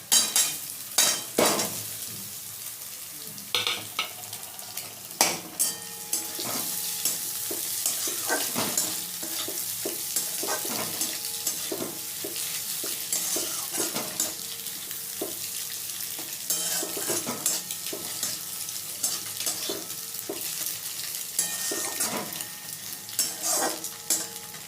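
Beaten egg frying with browned onions in a pan for an egg masoor dal, sizzling steadily while a utensil stirs and scrapes in repeated sharp strokes, close and fairly loud, with no talking.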